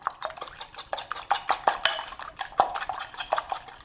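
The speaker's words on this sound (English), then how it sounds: "we're just going to give those a quick whisk" Four eggs get a quick whisk in a bowl, a fast run of light metallic clinks and taps against the sides, close and busy.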